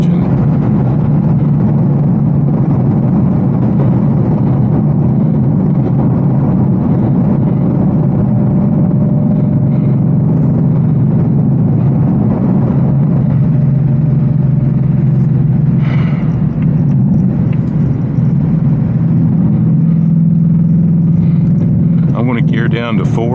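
An 810-horsepower RTR Mustang GT engine rumbles deep and steady while accelerating, a continuous, loud low drone that holds throughout with a voice talking over it.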